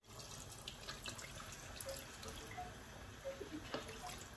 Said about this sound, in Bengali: এখন আমার চিকেন আর জল দিলাইমু